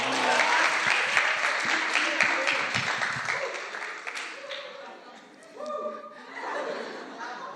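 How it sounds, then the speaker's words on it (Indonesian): Applause for a participant at a youth church service, dense clapping that fades partway through, with light laughter and chatter among the crowd. "Tepuk tangan untuk Vanto"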